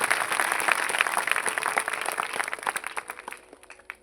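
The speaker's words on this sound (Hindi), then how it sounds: "ताली बजा के प्रभु को धन्यवाद।" A church congregation at a New Year Festival service claps their hands together in a dense, lively burst of many overlapping claps that gradually thin out and fade toward the end.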